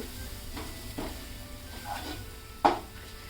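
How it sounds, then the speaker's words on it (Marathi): Tomatoes with a little salt cooking down in a pan for a spicy shev bhaji: a steady low sizzle and hiss, broken by a few soft stirring scrapes and one sharper utensil knock near the end, with no voices. "टोमॅटोला चांगले व्यवस्थित शिजून घेऊया आपण"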